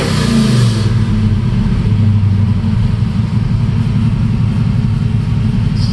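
A 1973 Camaro Z28 V8 revving hard at close range, a loud rumbling idle with a rising roar near the start, then a steady throbbing burble that carries on alone.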